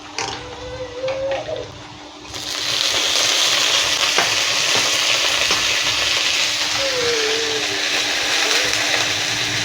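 Banana flower goes into a pan with fried potatoes and bursts into a loud, steady sizzle, after a quieter start with faint clinks.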